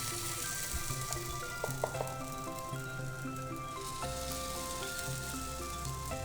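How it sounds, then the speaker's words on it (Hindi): Batter poured over paneer stuffing in a hot appe pan sizzles steadily and softly, with a few small clinks and gentle hissing close by, no voices. "स्टफिंग के लिए पनीर बीच में डाल के फिर ऊपर से बैटर को पोर करेंगे"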